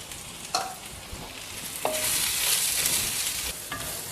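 White sesame seeds sizzle as they fry in a pan for a Tamil kovakkai gravy. Steady frying crackle runs throughout, broken by a few sharp spatula scrapes as they are stirred.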